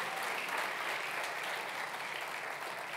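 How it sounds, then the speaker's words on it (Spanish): A congregation applauds during a Spanish-language church service, soft, dense, continuous clapping from a crowd heard at a distance, even and unbroken with no voices over it. "denle un aplauso al Señor esta mañana"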